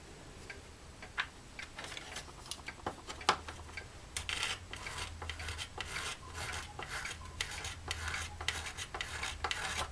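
An acrylic organ pipe piece being scraped by hand to fit, quiet at first with scattered ticks, then a run of rhythmic rasping strokes close by, no talking.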